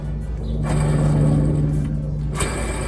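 A worn rear wheel bearing on a Skoda Superb, heard up close as a steady mechanical grinding drone with a low tonal hum that holds for about three seconds.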